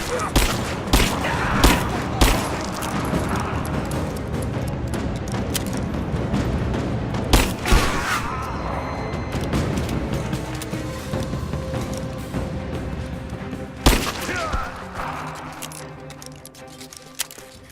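Sustained gunfire and explosions from the Rise of the Tomb Raider video game at a Soviet installation, with bursts, automatic fire and loud booms throughout, under shouted in-game voices.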